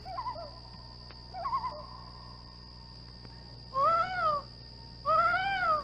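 A woman imitates loon calls in an 80s horror film, two long wavering, yodel-like wails rising and falling, each lasting about a second, following quieter warbling cries over a steady high-pitched hum.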